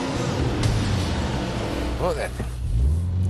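A Subaru Impreza Cosworth accelerates hard, its engine a loud, steady roar that briefly rises and shifts in pitch, heard from inside under someone talking.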